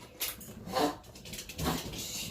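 Dogs whimpering in a home kitchen, a few short whiny cries in quick succession, fairly close and moderately loud.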